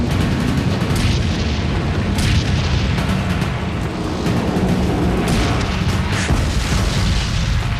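A Desert Storm tank firing its main gun on the move at speed over bumpy ground: repeated heavy booms and blasts over a continuous loud rumbling roar, with no talking.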